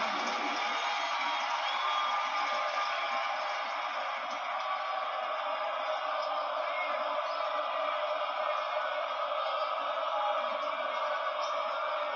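A basketball arena crowd during a Texas Tech vs Iowa State men's game roars in a steady, sustained cheer that fills the space evenly from start to finish.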